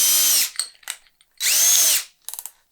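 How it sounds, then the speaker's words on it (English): A power drill fitted with a larger bit whines through two sustained bursts while countersinking screw holes for homemade shoe shelves, its pitch rising and falling, with short clicks and trigger taps between runs. "I'm going to swap over to this bigger drill bit."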